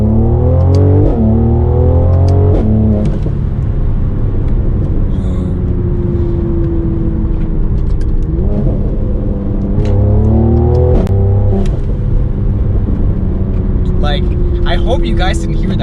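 Mercedes-AMG C43 accelerating hard under boost, engine note rising and falling through repeated upshifts with a pop at each change, loud and close from inside the car, with talk over parts of it.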